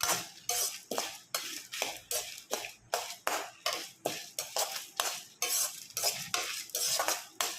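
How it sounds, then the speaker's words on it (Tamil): Dried chillies, tamarind, garlic and coriander seeds are roasted dry in a pan, a spatula scraping and stirring them in quick, steady, rhythmic strokes throughout, close and clear with no talking. "இது எல்லாத்தையும் நல்லா ரோஸ்ட் பண்ணி எடுத்துக்கலாம்."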